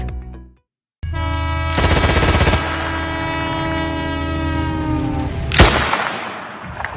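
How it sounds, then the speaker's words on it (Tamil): Machine-gun fire plays as a loud, sustained tonal rattle for several seconds, then a sharp crack stands out near the end. "1020 குண்டு டொப்புன்னு அடிச்சிருக்கானுங்க பாருங்க."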